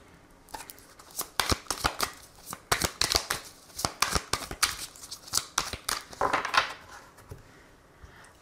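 Tarot cards are shuffled by hand in a series of close, crisp riffles and slaps with short pauses between them, with no talking.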